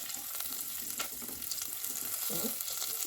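Masala for a mackerel curry fries in a pan with a steady close sizzle and occasional stirring scrapes, no voices.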